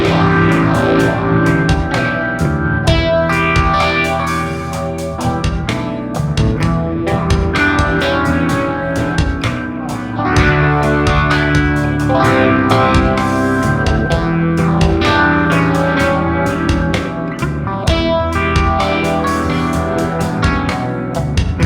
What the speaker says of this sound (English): let me add now the distortion, the fuzz phase